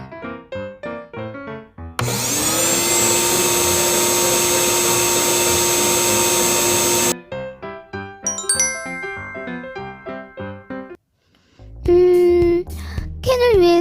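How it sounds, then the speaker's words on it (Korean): A loud, steady vacuum cleaner whine runs for about five seconds, with bright chiming tones and tinkling notes before and after it. "청소기도 좀 돌려야겠는걸?"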